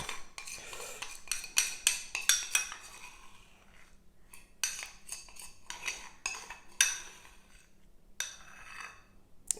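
A metal spoon scraping and clinking inside a honey container, with a quick run of close, sharp taps and scrapes, pauses between bursts, and no talking.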